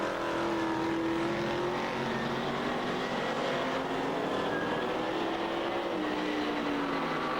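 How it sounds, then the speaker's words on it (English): Stock cars race at Waikaraka Park during a teams nationals meeting, their engines a continuous distant roar with shifting pitch as the pack circulates, with no commentary heard. "what a weekend it is of Stock Car Teams racing"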